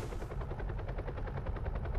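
Helicopter passing overhead, a fast, steady rotor chop pulsing through a loud, close drone with no voices.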